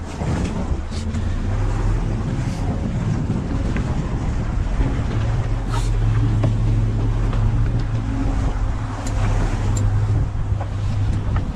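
A boat engine drones steadily throughout, low and constant, mixed with wind buffeting the microphone and faint splashing water.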